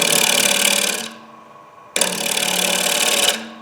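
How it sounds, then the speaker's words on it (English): A power-driven smaller gouge makes a light cut in wood for a butterfly inlay, two loud, steady whirring bursts of about a second each, separated by a brief quieter pause, heard up close without talking. "I went to a smaller gouge. We'll try a lighter cut."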